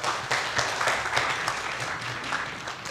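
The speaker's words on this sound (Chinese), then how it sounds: "掌声欢迎" An audience at a university lecture ceremony applauds a speaker coming up to the stage, steady dense clapping filling the hall at an even level throughout.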